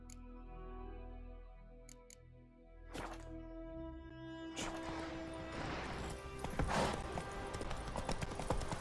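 Horse hooves in The Witcher 3: Wild Hunt, starting after a quiet opening with a few clicks, then building into a continuous quick clatter of galloping, close and moderately loud.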